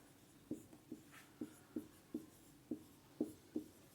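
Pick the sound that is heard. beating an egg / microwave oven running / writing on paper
writing on paper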